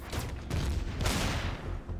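Plasma cannon fire in the space survival game Empyrion Galactic Survival, a dense, loud run of blasts and booms that overlap steadily for the whole stretch with no voices.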